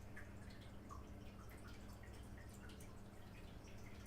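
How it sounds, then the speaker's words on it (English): A cat water fountain trickles softly nearby, with faint, irregular drips and light splashes over a low, steady room hum. "That's actually the cat fountain."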